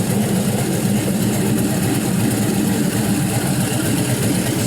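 Rebuilt 6.0-liter LS V8 with 706 heads and a return-style fuel rail idling hot on a run stand, a steady, even low rumble holding at one pitch throughout with no revving and no talking.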